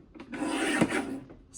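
A paper print sliced with a paper trimmer, one short rasping cut lasting about a second, close and fairly loud.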